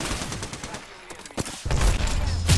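Gunfire in the video game Apex Legends: a few sharp shots early on, then a dense burst of rapid automatic fire building loudly toward the end.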